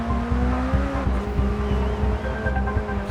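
McLaren Speedtail race car tuned to 1000 horsepower in Forza Horizon 4, its engine droning loud and steady on track with rhythmic pulsing gear changes and a faint tire whine, no talk.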